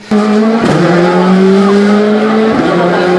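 Rally car engine revving loudly at close range with a sustained rising engine tone and tire squeal as it skids through a stage, continuous and dominant throughout.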